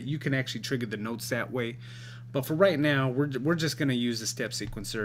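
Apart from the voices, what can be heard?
None of the usual background noises is heard.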